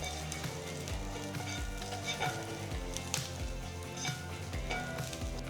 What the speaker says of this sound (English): Next, add a few curry leaves. Keep the flame on low throughout.